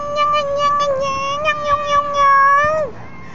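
A cat perched on a rooftop at night in Kuwait gives one long, drawn-out, wavering meow, close and loud, that drops off sharply at the end.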